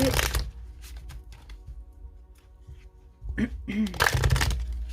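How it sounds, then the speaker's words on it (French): Oracle cards are shuffled by hand in quick riffling bursts at the start and end, with quieter handling and light taps in between. "Alors ces cartes, je les prends à l'endroit, à l'envers, donc je vais bien mélanger."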